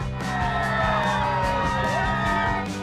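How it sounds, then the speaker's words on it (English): Fans gather outside a courthouse as Johnny Depp and his lawyers arrive, and the crowd cheers loudly with whoops and shouts, a dense wall of voices with rising yells layered on top. "Depp and his team of lawyers arrived at court and met great fans cheering them on."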